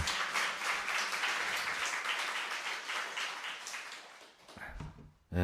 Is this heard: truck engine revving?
no